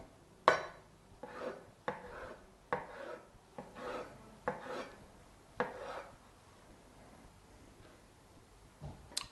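A kitchen knife slicing vegetables on a cutting board for basic home prep, about eight crisp chopping strokes in a steady, slightly uneven rhythm, each stroke short and close, with quiet scraping between cuts and no talking.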